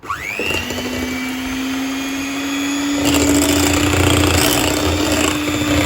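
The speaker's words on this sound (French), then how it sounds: "Et là, on va mélanger tout doucement." Electric hand mixer whirring steadily through cake batter with sugar and vanilla sugar for an apple cake, the motor pitch rising at the start and turning louder and rougher midway, no talk.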